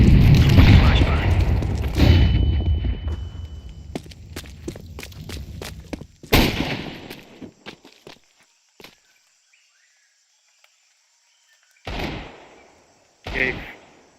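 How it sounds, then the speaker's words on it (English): Counter-Strike 2 grenade and flashbang blasts: a loud burst at the start, then a sharp bang near the middle and two more bursts toward the end, with gunfire pops, footsteps and a ringing tone between them. "Throwing fire. Grenade out. Throwing flashbang."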